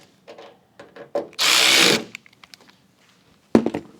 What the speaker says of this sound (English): we're going to take our Phillips head drive and we're going to snug these outer two